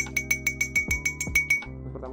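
Glasses holding water tapped in quick steady succession, each strike a clear bell-like ping at a constant pitch, ringing on over a low hum before stopping abruptly.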